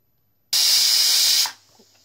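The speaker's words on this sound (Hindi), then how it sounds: "चलिए कुकर से ना सीटियां आ रही हैं" A single loud, steady hiss of escaping steam bursts in and holds for about a second, then cuts off abruptly, a pressure cooker whistling while cooking chickpeas.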